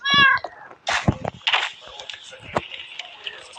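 Pet cats meow indoors, one clear loud meow at the start followed by softer calls mixed with a person talking and handling noises.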